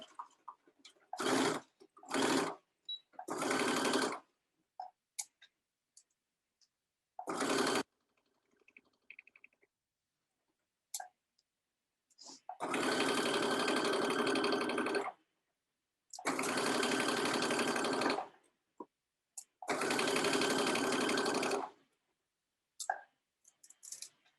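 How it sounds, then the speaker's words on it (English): A sewing machine stitches the side seam of a lined dress in several bursts, some brief and three long runs of steady whirring, with quiet pauses and small clicks between them. "I'm going to stitch all the way until I'm in line with that notch"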